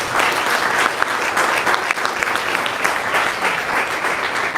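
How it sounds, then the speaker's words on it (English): An audience claps hard and continuously, a dense, even wash of applause lasting several seconds with no talk over it. "So let us clap harder."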